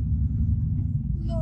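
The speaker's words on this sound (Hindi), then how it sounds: "बड़ी लंबी ट्रैफिक है।" A car creeping along in slow, congested highway traffic, its low engine and road rumble steady and close throughout, with a brief higher sound near the end.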